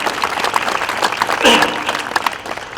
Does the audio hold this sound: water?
no